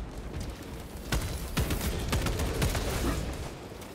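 Rapid gunfire bursts and sharp shots crackle in Warhammer 40k: Space Marine 2, a dense, loud, near-constant volley of repeated reports with heavy impacts throughout.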